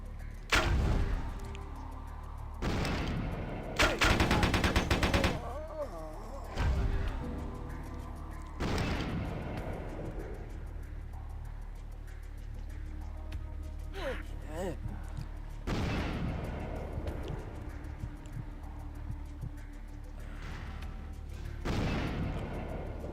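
Gunfire in Vampire The Masquerade: Bloodlines, heard as several loud, sharp shots in separate bursts, one fast volley among them, with quieter stretches of game ambience and a voice talking in between.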